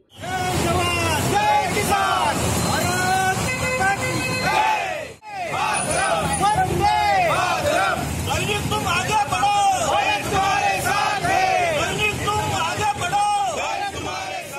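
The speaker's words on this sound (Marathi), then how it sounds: "भारत माता की जय भारतीय सैनिकांचा विजय असो अशा घोषणा दिल्या" Dense crowd of BJP workers with tricolour flags chanting patriotic victory slogans in unison at a street celebration in Malvan, Sindhudurg, loud and continuous, with a brief pause partway before the chanting resumes.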